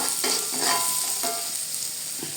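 Onions, garlic and chilies sizzle and hiss in hot oil in a frying pan for sambal goreng with tofu and tempeh, a steady close crackle broken by scraping stir strokes.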